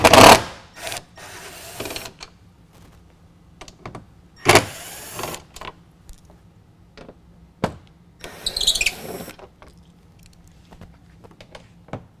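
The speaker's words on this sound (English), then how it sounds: "What we're going to do here is remove the 8 Torx bolts to hold that in place." Torx bolts come out of a Pace Edwards Switchblade tonneau cover on a 2019 Dodge Ram 1500 under a T30 bit: scattered loud ratcheting and scraping bursts with quiet gaps between them, near and alone.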